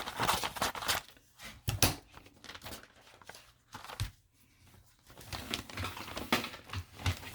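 Paper picture being cut down and handled, with crisp crinkling rustles and short snips in irregular bursts, fairly close and quiet, separated by brief pauses.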